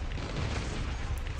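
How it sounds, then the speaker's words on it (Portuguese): Rapid turret gunfire in a Last Day on Earth game plays as a dense, continuous booming rattle with heavy low thumps, sustained and loud across the whole moment with no talking. "Foi pra bater, a torreta atirou nele, chamou atenção."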